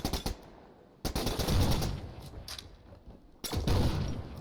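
Rapid bursts of automatic gunfire in the sci-fi shooter The Signal from Tolva, fired at robots, come in three sharp volleys separated by brief pauses, loud and close.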